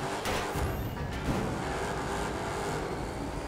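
A car engine roars steadily with dense broadband rumble, a Crown Victoria-style car in the racing game The Crew 2 driving continuously at speed, no voices.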